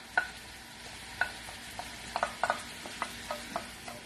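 Onion, garlic and hot pepper frying in a pan, giving a soft, quiet sizzle broken by scattered sharp clicks and scrapes as the pan is stirred.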